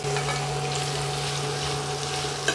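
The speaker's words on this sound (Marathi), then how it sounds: "हा कांदा चांगला तेलात परतून घ्यायचा बारीक गॅसवरती लाल कलर होईल असा आपण एवढा परतायचा" Onions fry in oil over a low gas flame for a chicken curry, giving a steady, soft, close sizzle with faint crackles and no talk.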